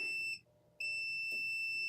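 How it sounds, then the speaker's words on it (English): Ricoh Ri1000 heat press sounding a loud, continuous high electronic beep while printing a shirt, cutting out briefly before resuming, close and steady. "It's going to beep, but it's not going to auto open."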